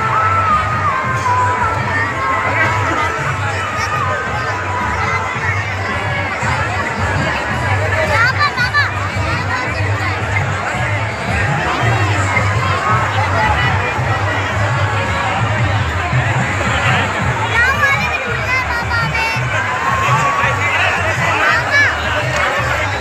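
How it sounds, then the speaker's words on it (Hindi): A large crowd shouts and cheers without pause at a Dussehra Ramleela fair, dense and loud, with children's voices and babble mixed in. "काफ़ी भीड़ है"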